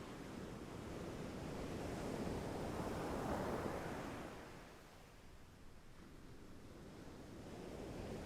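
Sea waves and surf wash steadily in a broad, continuous roar that swells toward the middle, eases briefly, then builds again, with a light breeze in the background and no voices.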